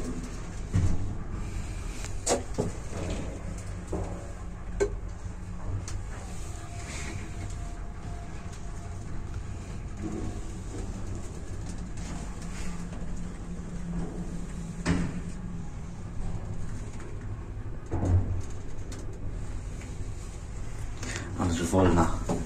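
Ride in a Niemakowa passenger lift with bus-type cabin doors in a residential block, a faint steady hum with scattered clunks and door or mechanism knocks throughout, people talking quietly over it.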